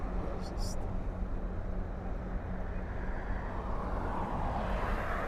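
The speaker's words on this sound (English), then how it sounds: "And then it looks like we have another plane on the taxiway there." An Air Canada Rouge Airbus A321 taxiing at Toronto Pearson Airport gives a steady, distant jet engine rumble that swells slightly toward the end, with a person talking over it.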